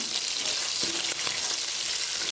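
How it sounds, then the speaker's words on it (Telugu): Onions hiss and sizzle loudly in a pan of hot oil with ginger and green chillies for rice rava upma, a dense steady fry with a brief scrape partway through. "కొన్ని ఉల్లిపాయలు వేసుకుంటున్నాను"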